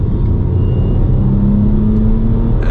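A BMW E90 335i accelerating through the gears, heard from inside the cabin as a loud, steady low engine drone with a tone that climbs slightly, and no talking.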